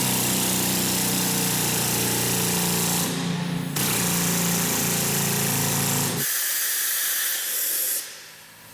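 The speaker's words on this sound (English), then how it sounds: "It's a percussion drill, and it would be water infused as well to keep the dust down and to keep the drill bit cool." A water-infused percussion drill hammers continuously in a mine, loud and harsh with hissing, pausing briefly mid-run before cutting out near the end.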